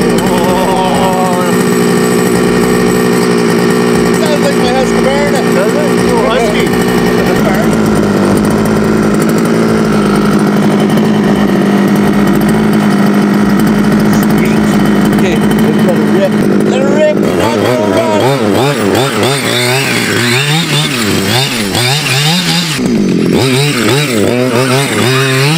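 Gas-powered Losi 5T 2.0 RC car engine started with the choke off, a loud buzzing two-stroke drone that idles steadily and then revs up and down in rapid surges, close by and filling the whole stretch.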